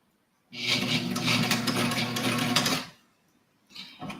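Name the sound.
sewing machine being hand cranked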